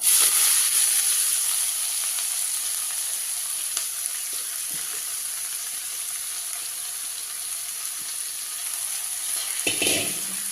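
Hot oil sizzles loudly and continuously as cabbage fries in a pan, with a brief clatter near the end.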